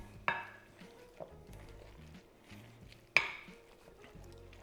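Tuna patty mixture with lemon juice and beaten eggs gets stirred in a bowl, soft wet mixing with two sharp clinks of a utensil against the dish, fairly quiet throughout.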